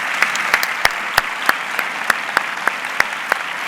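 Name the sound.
audience applause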